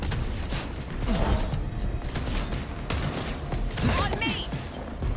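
Scattered gunfire in the Vampire the Masquerade Bloodlines 2 video game, a run of sharp shots amid mechanical clatter and creaks, moderately loud with faint voices in the background.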